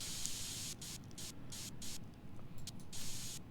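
Aerosol spray paint hissing onto the top of a computer case in a steady near stream, broken by several short pauses between bursts, with no talk over it.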